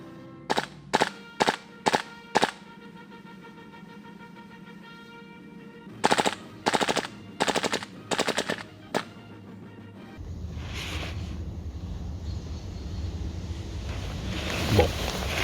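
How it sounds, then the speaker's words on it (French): A KWA Kriss Vector airsoft replica fires a string of short, sharp bursts of a few shots each, then a second burst sequence, followed by a sustained full-auto rattle over a steady background hiss. "La réplique tire également en burst et en full auto."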